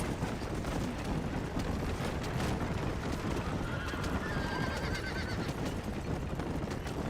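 Horses whinny and hooves clatter in a rapid galloping rhythm over a dense, noisy rumbling background, loud and continuous.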